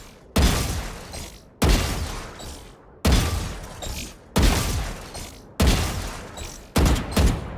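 Six loud gunshots from the Valorant video game, fired in a steady, evenly spaced series about a second or so apart, each a sharp crack with a short decaying tail, with no talking.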